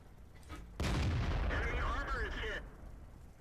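Tank cannon fire in World of Tanks: a heavy booming blast cuts in abruptly and rumbles for nearly two seconds, mixed with whistling, sweeping game effects, then cuts off, leaving quieter battle ambience.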